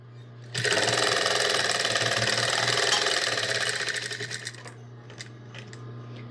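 Sewing machine edge stitching close to the folded edge of an apron pocket, a loud steady run of rapid needle strokes that slows and tapers into a few separate stitches and soft handling clicks near the end.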